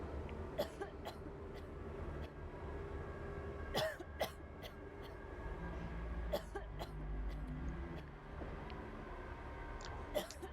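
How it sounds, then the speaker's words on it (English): A female survival-game character in The Long Dark coughing and clearing her throat, several short sharp bursts scattered irregularly over a low, steady ambient background. "Sorry if you don't like the sound of Astrid coughing"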